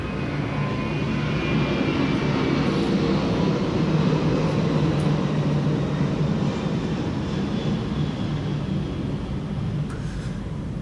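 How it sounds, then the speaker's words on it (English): A plane passing overhead as a steady, broad engine roar that holds loud and even for about eleven seconds, with no voices. "A plane is coming."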